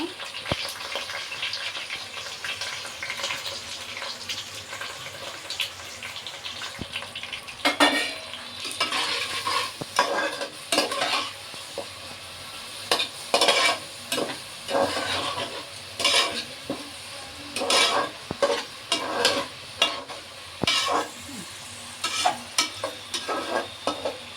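Goat brain frying in a pan with onions, a steady oil sizzle broken by repeated scraping and clinking strokes of a spoon stirring against the metal, close and fairly loud.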